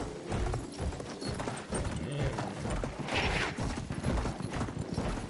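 A horse gallops in Battlefield 1, with rapid hoof beats pounding steadily amid game noise and a burst of hiss midway, while a voice speaks faintly in the mix.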